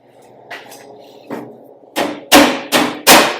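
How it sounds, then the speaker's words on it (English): Several sharp hammer strikes on metal, a few lighter taps first, then four loud ringing blows in quick succession, close by. "Get a little hammer action on there."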